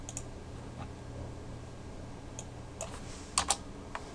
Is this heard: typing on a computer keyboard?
yes